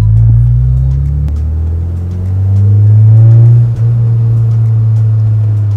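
A Mazda MX-5 engine revs inside the cabin with a loud, steady low drone. Its pitch rises and swells, dips for a moment, then holds at a rumbling hum that resonates through the car. No one speaks.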